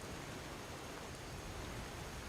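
Steady rain falls in the fantasy role-playing game Skyrim, a constant, even hiss of downpour filling the background with no breaks, fairly soft and without any voices.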